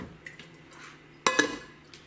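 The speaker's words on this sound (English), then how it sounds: "We're going to be using one of my new pots here." A new metal cooking pot is handled in a home kitchen while shrimp ramen is being made: soft shuffling, then two sharp, close metallic clanks in quick succession, with no talking.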